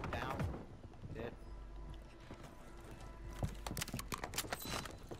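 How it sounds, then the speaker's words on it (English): Footsteps in the video game Call of Duty Rebirth Resurgence: quick, muffled steps amid dense game noise, growing busier toward the end. "footsteps, footsteps,"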